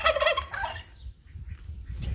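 Birds calling on a poultry farm, a short close burst of clucking that trails off into a quieter barn background.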